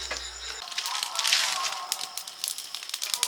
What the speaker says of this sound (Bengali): উনুন জ্বালিয়ে তাওয়া বসিয়ে দিয়েছি